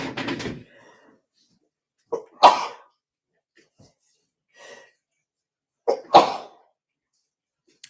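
Several close coughs come in separate bursts, a quick pair near the middle and another cluster toward the end, with quiet gaps between.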